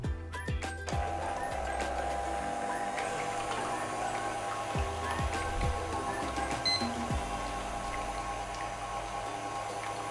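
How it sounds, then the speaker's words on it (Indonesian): An electric mixer whips cake batter ingredients for an Es Teler cake, run from medium up to its fastest speed; a steady, continuous motor whir with rattling beaters fills the clip from start to finish, with no talk. "semua bahan ini akan kita kocok kurang lebih selama 15 menit sampai kental, mengembang, dan pucat"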